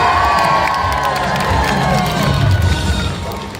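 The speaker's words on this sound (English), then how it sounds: "Excellent cheering." A crowd cheers, shouts and whoops at Universal's Animal Actors live animal show, loud and sustained, with children's voices prominent and the roar easing slightly near the end.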